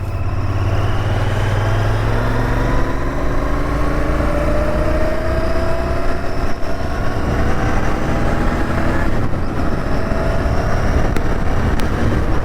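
Royal Enfield Interceptor 650 parallel-twin motorcycle engine droning steadily while riding, with rising and falling tones as revs shift under constant loud wind rush close to the mic.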